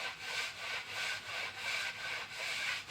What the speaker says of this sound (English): All I've got here is just a flat wooden block with a piece of Scotch-Brite on it.